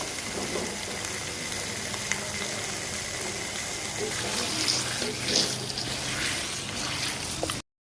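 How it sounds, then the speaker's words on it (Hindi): Chicken frying in a pan for homemade degi korma, with a steady, even sizzle and crackle of hot oil throughout and a few brief louder pops. "देखिए चिकन फ्राई हो रहा है"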